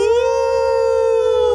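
A person imitates a wolf howl with a single sustained, loud, rising-then-steady tone held for over a second, sounding close, with no other talk.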